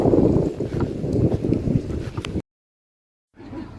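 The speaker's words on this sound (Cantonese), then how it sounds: "啲風吹埋嚟好舒服" Seaside wind at Tai Tam Bay rushes and buffets the microphone in a steady, loud roar, cuts out to silence for about a second, then returns more softly.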